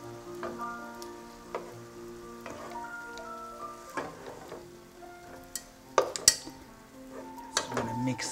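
Cauliflower stew is mixed in a pot on the stove, with a spoon scraping and clinking against the sides in uneven strokes over a faint simmering sizzle.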